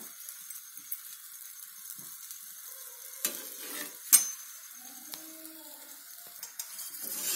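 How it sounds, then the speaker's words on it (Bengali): Masala paratha fries in oil on a hot tawa over a high flame, giving a steady close sizzle broken by a few sharp clinks and scrapes of a utensil. "এটা ঘি দিয়েও ভাজা যায়, আমি এটা তেল দিয়ে ভাজছি"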